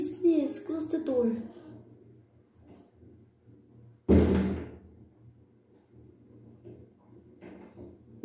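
A door is opened with a sudden solid thump in the middle, preceded by a person talking and followed by quiet low rumbling room noise.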